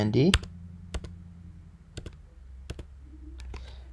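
A few sharp keyboard clicks as a Command-D shortcut is pressed on a computer keyboard, spaced irregularly and fairly close, with a brief bit of speech at the start.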